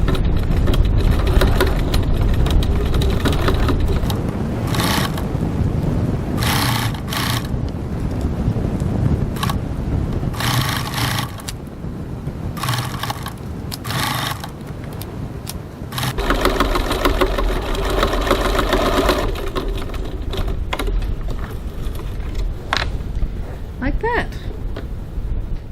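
A sewing machine bastes a flap onto a crossbody bag at a long stitch length, running in several bursts separated by pauses while a person talks between and over the stitching.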